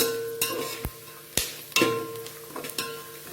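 Puffed rice bhel is tossed with coriander powder and spicy masala in a bowl, producing a few sharp utensil clacks and dry rustling scrapes in an irregular rhythm, close and fairly quiet, with no talk.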